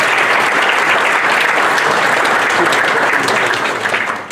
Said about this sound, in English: So can you give him a round of applause?